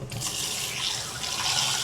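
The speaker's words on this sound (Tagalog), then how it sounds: "Ang lakas ng tubig ah." Strong water flow from a sink tap while washing dishes, a steady full-bodied rush running unbroken for the whole stretch, close and fairly loud with no talk over it.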